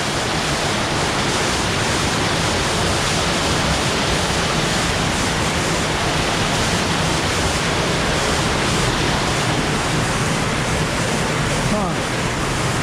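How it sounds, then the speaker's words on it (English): A waterfall in a canyon on Vancouver Island roars as a loud, unbroken wash of broadband noise, close and overpowering, with a voice faintly under the rush. "I don't even remember this waterfall being here like this before."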